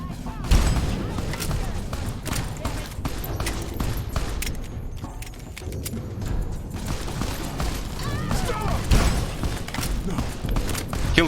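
Enemy gunfire during an ambush in Fallout: New Vegas, Honest Hearts, with scattered shots and impacts over game noise and mechanical clatter, while a voice talks throughout.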